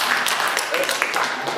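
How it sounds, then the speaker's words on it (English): Audience at a Papakura Labour evening event applauds as the party chair comes on stage; steady, dense clapping from a crowd fills the moment, with a voice talking over it. "Give him a round of applause, everybody."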